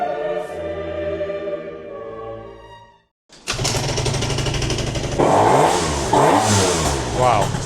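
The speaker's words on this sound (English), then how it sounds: "it's revving high that before it engages" A motorbike engine fitted with a Stage 6 overrange kit idles with a steady harmonic hum, cuts out for a brief moment, then revs loud and close in repeated rising-and-falling sweeps.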